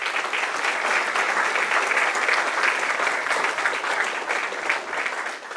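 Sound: round of applause

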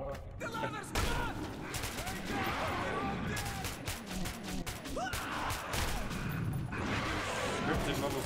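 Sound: gunfire from the video game Metro 2033 Redux

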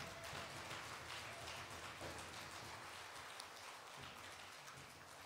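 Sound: applause for the teachers

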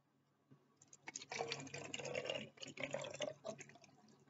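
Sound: pouring vitamin C water into spray bottle

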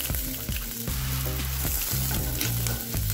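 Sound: ingredients lightly frying in a pan

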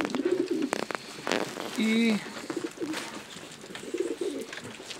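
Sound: pigeon cooing

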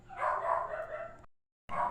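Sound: dog barking

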